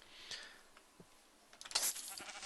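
Sheep bleating in the video game Minecraft, a few faint, short bleats scattered across a quiet background along with light game sounds.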